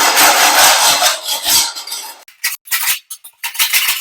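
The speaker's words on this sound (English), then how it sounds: "And that's where your floor scraper comes in handy." A floor scraper pushed across a tile floor to scrape leftover mortar, giving a long rough grinding rasp up close that breaks into short, choppy scraping strokes toward the end.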